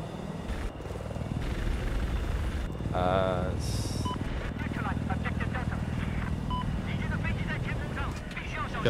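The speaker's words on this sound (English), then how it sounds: "No, don't destroy it. No more chopper." A helicopter in the Battlefield 4 video game drones steadily throughout amid loud gunfire and battle noise, while players talk over it.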